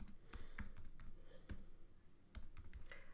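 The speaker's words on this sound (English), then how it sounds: "Excuse my typing" Someone types on a computer keyboard nearby, with quiet, irregular clicks that come in short bursts and brief pauses.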